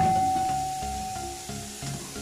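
Chopped onions frying in a pan as the base for a keema dish with peas and potatoes: a close, steady sizzling hiss that continues unbroken for a couple of seconds.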